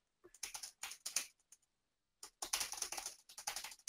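Someone types on a computer keyboard, quiet and close, in two bursts of rapid irregular key clicks separated by a short pause, with no voices.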